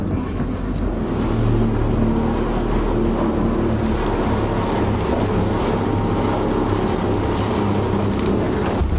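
Manly Ferry passing on Sydney Harbour during an 18-footer sailing race, a steady rumbling engine and wash close by, continuous and fairly loud with no talk.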